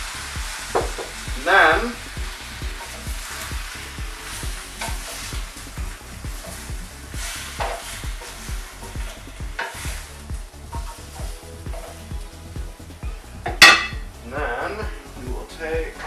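Sauce base thrown into a hot stir-fry pan for a vegan Thai coconut curry, sizzling and frying steadily with stirring and occasional pan clatter, a brief sharp clang near the end, a few words spoken.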